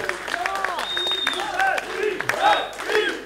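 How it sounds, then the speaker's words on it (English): A festival crowd applauds and cheers a country band at the Essonne Country Festival in Saint-Germain-lès-Arpajon, with steady dense clapping and a few shouts, while voices speak over it. "On peut les applaudir."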